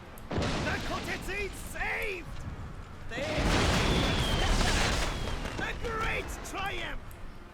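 Deep naval cannon booms and a rolling roar of gunfire in a Total War: Shogun 2 sea battle at Miyako Bay swell through the middle, with voices calling out over the battle noise.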